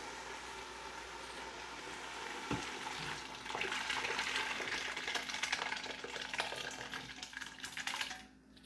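Boiled sabut moong dal tipped into frying masala for restaurant-style dal, a sudden splash followed by steady crackling sizzle that fades near the end, close and moderately quiet with no speech.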